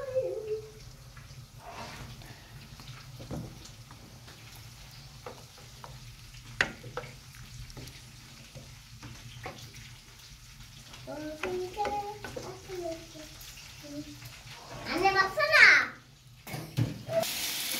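Squid adobo sizzles in a pan after soy sauce is added, a steady low frying hiss with occasional stirring clinks and scrapes, louder bursts of sizzle near the end.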